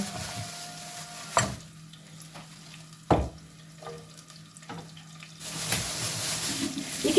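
Onions fry in a pan, starting as quiet sizzling with a few sharp knocks of a utensil, then swelling into a louder, continuous sizzle near the end.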